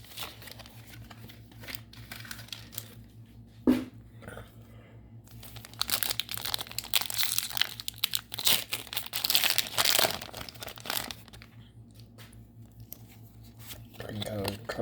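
A Pokemon Darkness Ablaze card pack wrapper is crinkled and torn open close up, with sharp rustling bursts and crackling foil building in the middle, while a person talks.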